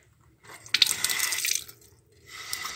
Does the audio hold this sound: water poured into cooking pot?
yes